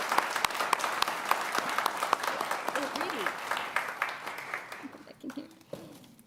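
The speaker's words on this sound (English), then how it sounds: "A round of applause to Jen." Audience applause at a Memorial Day ceremony, steady clapping from a seated crowd that tapers off near the end, with a voice briefly audible as it fades.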